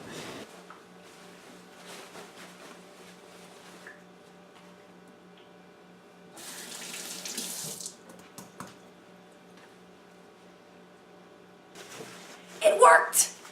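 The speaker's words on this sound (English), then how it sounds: "I'm just trying to get all the drippy water out so I can hang this to dry in my bathtub" A freshly dyed green dress is wrung out by hand over a bathtub, giving a couple of close, splashy bursts of dripping and running water separated by quiet stretches, the last burst louder and busier.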